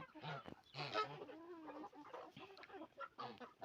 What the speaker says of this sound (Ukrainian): Ось так гуси.